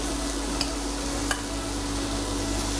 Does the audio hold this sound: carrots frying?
yes